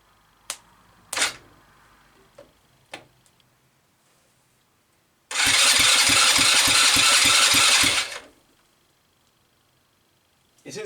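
A 110cc go-kart engine runs in gear for about three seconds, a loud buzzing putter with fast regular pulses, preceded by a few sharp clicks and knocks.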